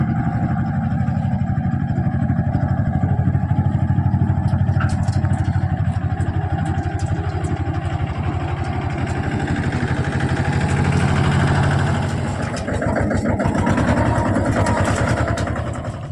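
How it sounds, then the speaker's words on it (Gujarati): Tractor engine arriving and idling steadily in a groundnut field during threshing work, a loud continuous low rumble with clatter that dips briefly near the end and resumes. "ઓલી વાડીએથી આ વાડીએ ટ્રેક્ટર આવી ગયું, જોઈ લ્યો."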